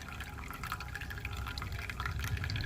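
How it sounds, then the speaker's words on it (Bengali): Fresh coriander leaves being rinsed in water make gentle splashing, trickling and dripping, quiet and continuous at close range with no voices. "ধনেপাতাগুলো ভালো করে ধুয়ে নিলাম।"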